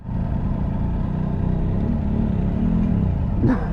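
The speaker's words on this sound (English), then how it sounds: "Ah, it's just wheel spinning." A Triumph Tiger 800 XCA motorcycle spins its rear wheel off-road, its engine holding a loud, steady droning rumble that swells slightly near the end.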